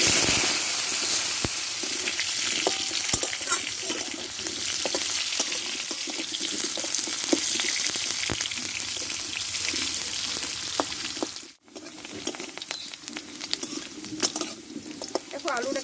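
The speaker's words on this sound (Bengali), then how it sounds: "মাছের তেলে আমি আলুটাকে কষে নেবো" Potatoes fry in leftover rohu fish oil in a pan for a fish curry, a loud, close sizzle with crackles and stirring that drops out briefly near the end, while a voice talks over it at times.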